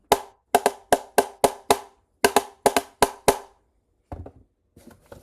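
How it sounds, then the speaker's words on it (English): A spoon tapping on a plastic Tupperware container, sharp close taps in quick rhythmic bursts of about a dozen strikes, then a pause and a few softer scrapes and rattles. "And I also have the Tupperware with the spoon."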